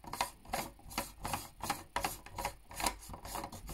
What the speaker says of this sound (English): this one screws in the end of the focuser